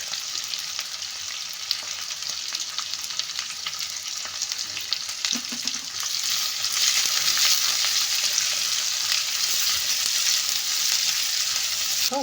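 Onion frying in hot tempering oil for curd rice, a close, bright sizzle with scraping stirs that grows louder and denser partway through and continues without talk.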